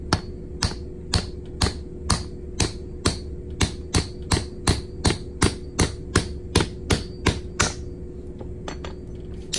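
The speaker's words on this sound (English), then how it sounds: "using a hammer" Sharp metallic hammer strikes on a folded coin over a ring mandrel ring out in a steady, rapid rhythm, about twenty blows, close and loud, with faint ringing between hits.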